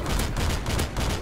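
Gunfire in Call of Duty Modern Warfare 2, heard as a dense, continuous stream of loud rapid shots with no talking.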